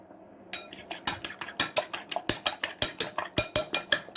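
A utensil beats an egg mixture with salt, coriander and pepper in a bowl: rapid rhythmic clinking strokes, about two or three per second, close and steady after a brief quiet start.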